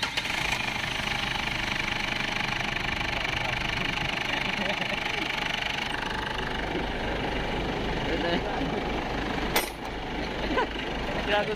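A Ford Everest engine, earlier stuck on a no-crank starter fault, runs steadily and loudly near the listener with a rough idle and a knocking rumble throughout. A brief sharp click sounds near the end.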